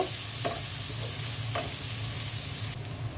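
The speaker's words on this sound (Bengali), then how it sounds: "পেঁয়াজ দিয়ে দিয়েছি পেঁয়াজটা একটু হালকা ভেজে আমি মশলা দিয়ে দিব" Onions frying in a pan for a curry give a steady close sizzle, with a few brief stirring scrapes and a brighter hiss swelling near the end; no one speaks.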